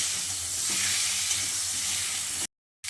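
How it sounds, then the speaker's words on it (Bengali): Raw potatoes frying with spices in a pan for a Bengali hilsa fish curry, a continuous close, loud sizzle and hiss, cutting out abruptly near the end before resuming briefly. "আলুটা দিয়ে মশলার সঙ্গে খুব ভালো করে কষিয়ে নিয়েছি"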